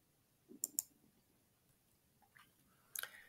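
A computer mouse clicks on the power button in radio-control software: a few faint, crisp clicks, a pair early on and another pair near the end, in an otherwise quiet room.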